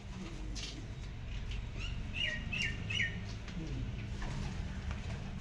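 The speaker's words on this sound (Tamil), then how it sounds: "இங்கேயும் புறாதா, இங்கேயும் புறாதா." Pigeons in a garden give a few short squawking calls in a brief cluster near the middle, over a steady outdoor background hum, with no talking.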